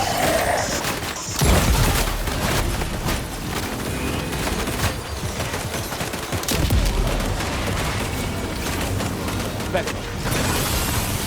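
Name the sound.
gunfire in the video game Death Stranding 2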